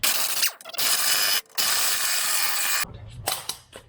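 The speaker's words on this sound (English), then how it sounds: "Just to give it a few hits with a hammer." Hammer blows strike a Land Rover Discovery halfshaft during repair, sharp metallic impacts separated by brief pauses, with a quicker cluster of knocks near the end.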